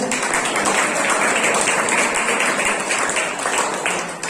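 Loud, continuous hand clapping from a church congregation praising during a Tamil sermon, a dense, sustained wash of many hands with a faint pulsing beat, slightly fading at the end.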